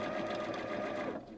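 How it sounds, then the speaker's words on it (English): A Janome sewing machine stitches around a small fabric hat brim with a steady, close mechanical whirr, then slows and stops near the end. "And then actually I'll just sew all the way around to the other side"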